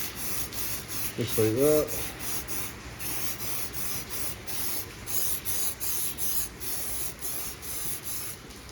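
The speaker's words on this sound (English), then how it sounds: "What we probably should do is spray the can a couple of times first, just to make sure it doesn't spatter." Spray paint hisses from an aerosol can in steady short bursts onto a car wheel rim, close and loud, with brief speech over it early on.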